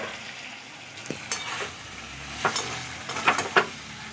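Fried potatoes stirred in a pan with sugar and liquid, a soft simmering sizzle with a few scraping and knocking strokes of a utensil.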